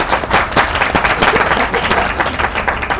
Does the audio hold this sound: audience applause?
yes